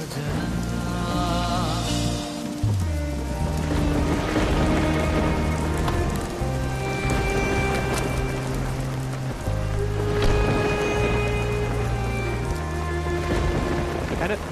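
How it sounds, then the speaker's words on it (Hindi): Steady rain pours down continuously throughout a scene in a romantic drama series, with a musical score playing over it. "बारिश हो रही है."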